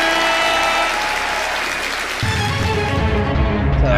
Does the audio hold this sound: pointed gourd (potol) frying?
no